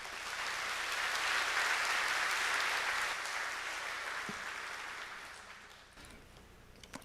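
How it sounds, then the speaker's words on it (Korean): A church congregation applauds to welcome a senior pastor at a Sunday worship service, a broad steady wash of clapping that swells, holds for several seconds, then thins out toward the end. "이 시간 귀한 목사님 박수로 맞이하겠습니다."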